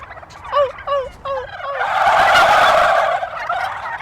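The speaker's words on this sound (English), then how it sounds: "the male turkeys will hear it and they'll probably get turned on and gobble back" A male turkey answers clucking with a loud, rolling gobble that swells and lingers after a few preceding higher clucks, close and clear with no talk over it.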